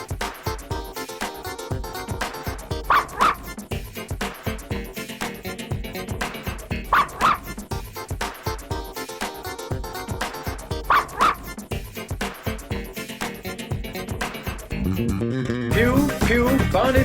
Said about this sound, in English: taking her dogs for a walk